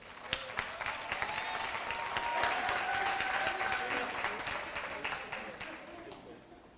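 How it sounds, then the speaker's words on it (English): Audience applause at a fraud and corruption community gathering, a steady wash of many hands clapping at moderate volume that swells slightly mid-way and then tapers off toward the end, with faint voices mixed in. "Can we give him a round of applause?"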